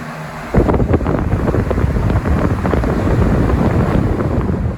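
A Lasko 18-inch high velocity floor fan (model 2518QM) blowing a broad, gusty air stream close by, a steady loud rushing whoosh that starts abruptly and continues without pause.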